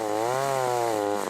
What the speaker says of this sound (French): On s'active, tronçonneuse à la main sur la parcelle de sapins de Noël